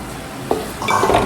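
Beef pieces with masala and yam stirred in a hot pan, a brief scrape of the spoon followed by a rising close sizzle.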